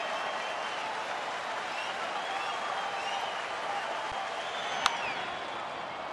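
A big crowd of about 42,000 at Wrigley Field roars steadily through a June baseball game, a broad, sustained wash of cheering and applause, distant and even throughout, with one brief sharp crack near the end.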